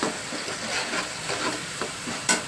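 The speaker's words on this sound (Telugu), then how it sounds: "బాగా గోల్డ్ కలర్లో అయ్యేంత వరకు వేయించేసుకోవాలి" Onions fry in oil in a pan for a korameenu fish curry, making a soft continuous sizzle broken by a few stirring scrapes and a brief sharper hiss near the end.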